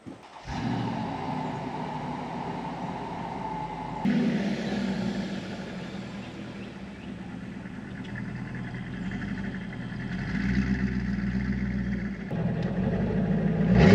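Mercedes ML430 SUV backing up: a steady low engine idle and rumble that is close and continuous, with a shift in tone around 4 seconds and a deeper throb near the end.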